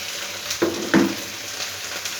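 Lady finger (okra) deep frying in hot oil, a steady close sizzle with a couple of brief louder crackles or stirring knocks, no voices.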